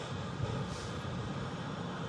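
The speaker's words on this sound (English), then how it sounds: "TUI Dreamliner there, rotating off 2-3 left" A TUI Boeing 787 Dreamliner takes off from runway 23L at Manchester Airport and climbs out, a steady distant roar and rumble of jet engines, even and unbroken.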